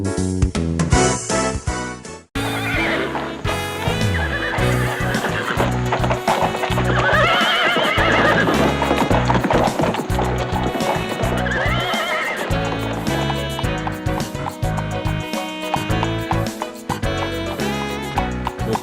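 A horse ridden by Gopal in an animated Hindi folk-tale episode whinnies loudly while its hooves clip-clop in a steady, rhythmic gait, continuing for most of the stretch after a short opening burst.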